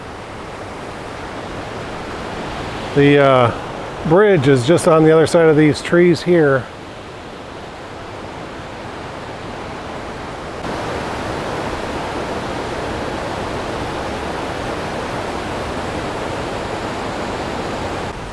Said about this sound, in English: The water is literally just like meandering through all these